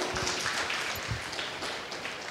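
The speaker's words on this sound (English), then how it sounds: "Everybody give her a round of applause." Audience applause welcoming a chief guest at a celebration event, steady and fairly soft, like a roomful of clapping heard from some distance with no voices on top.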